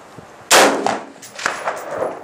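Gunfire at an outdoor shooting range with a Colt AR15, Kahr P380 and Ruger Wiley Clapp: one sharp, loud report followed by a couple of fainter echoing cracks, with no talk.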